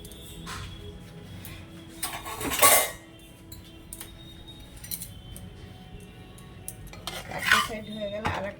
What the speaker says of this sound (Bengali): এই যে ফ্রাই প্যান বসিয়েছি দিয়ে দেবো আর এপিট টপিট ভাজা হবে